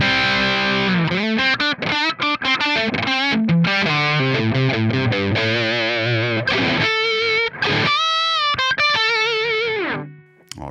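Heavily distorted high-gain guitar tone from a Dual Rectifier amp model in Amplitube 5, miked with an R121 ribbon mic, playing loud chugging riffs and sustained chords that ring out and fade at the end.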